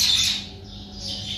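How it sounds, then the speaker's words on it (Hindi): Mynas and sparrows squawk in a Punjab village in the morning: a dense, shrill chatter of overlapping calls, close and fairly loud, with no talking. "चिड़िया है ना, तो मैना भी है, चिड़िया भी है"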